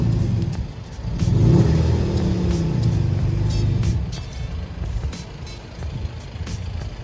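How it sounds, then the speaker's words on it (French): A VW Golf 7 GTD switched into sport mode accelerates, its diesel engine rumbling loudly and swelling early before easing to a steadier drone, with a few faint clicks on top. "On entend bien le moteur."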